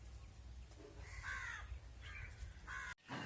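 A crow caws outdoors against an open sky, giving three or four harsh, nasal calls at moderate distance over a low, steady background hum, followed by a brief break near the end.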